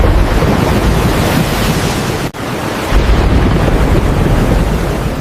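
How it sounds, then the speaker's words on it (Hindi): A heavy storm pours down over a rising flooded river near a bridge as a loud, dense, continuous roar of rain and rushing water with wind. The sound cuts out for a brief instant midway. "बारिश तो और भी तेज हो गई, पुल इस तूफान को सह न पाए।"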